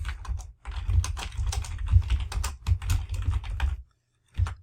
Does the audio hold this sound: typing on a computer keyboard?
yes